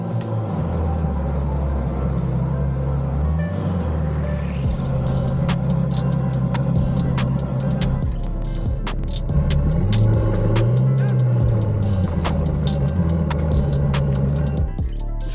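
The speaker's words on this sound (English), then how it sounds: "my 2017 Aston Martin DB11 needs to get out of here, man" A 2017 Aston Martin DB11 is driven out of a garage, its engine giving a steady low rumble and throb that rises and falls as it moves, loud and close throughout.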